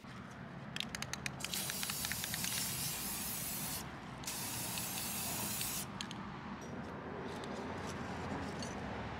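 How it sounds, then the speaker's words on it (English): Steady hissing bursts from a spray can painting rings outdoors, with short rattling clicks at the start and a few brief pauses between long sprays, fairly close. "Now, let's go outside to spray."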